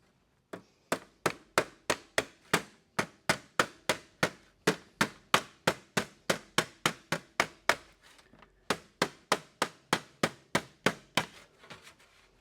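A light hammer strikes a sheet metal HVAC duct elbow with a radius heel in a rapid, even series of sharp metallic taps, close and crisp, with a brief pause partway through before the strikes resume.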